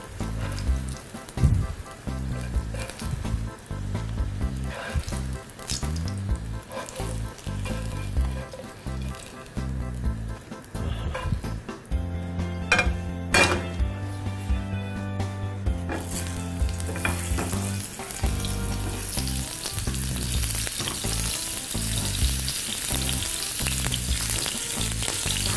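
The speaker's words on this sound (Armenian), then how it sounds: "մինչ սոխը տապակվի" Onion sizzles as it fries in a pan, a continuous crackling hiss with irregular stirring knocks and scrapes, growing denser and brighter toward the end, and no one speaking.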